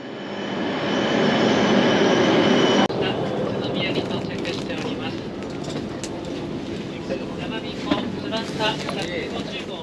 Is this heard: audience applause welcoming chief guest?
no